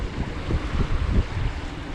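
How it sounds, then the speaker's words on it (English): Gusty wind buffets the microphone while small waves on the Mississippi River lap and slosh against something nearby, a rough, continuous wash of noise. "The waves are hitting it. It's kind of a windy day."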